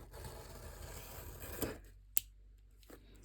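A Hobonichi top sheet cutter slicing open a paper package: a soft steady scraping glide, then a sharp click and a couple of faint taps in a quiet room.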